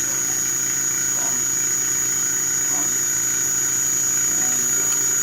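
A lab centrifuge spinning at its maximum 12,000 RPM gives a steady mechanical hum with a sustained high whine, constant in level throughout, with faint speech-like murmurs underneath.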